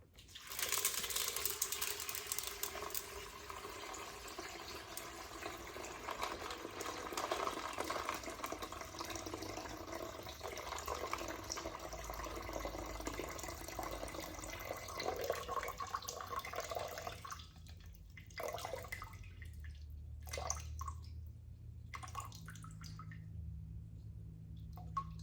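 Water for pizza dough runs steadily from a tap into a container for most of the stretch, a continuous faint hiss, then stops, leaving quieter low rumbling and a few small knocks, with no talking.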